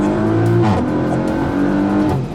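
An Audi tuned for high performance pulls hard under acceleration, its engine note loud, close and sustained with a rising, strained growl as it builds speed.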